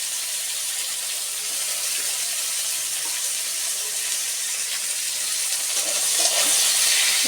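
Chopped onion frying in hot oil for an eggplant curry, a loud steady close sizzling hiss that holds throughout and grows slightly stronger toward the end, with no talking.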